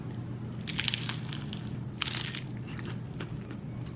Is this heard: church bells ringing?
no